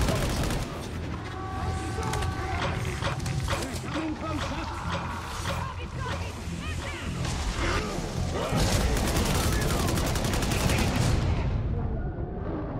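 Dense, sustained automatic gunfire and bursts of shooting in the Warhammer 40,000: Darktide video game, loud and continuous with booms and crashes mixed in, under chaotic combat noise and occasional voices.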